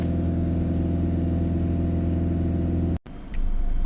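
A Peugeot Boxer diesel engine idles steadily after DPF cleaning, a close, even drone that briefly cuts out near the end before resuming slightly louder.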